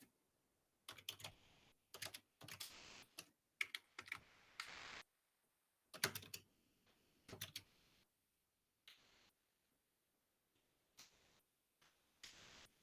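Computer keyboard clacking in quick, uneven bursts of typing during an online search, with pauses between flurries of keystrokes, close and fairly clear with no talk.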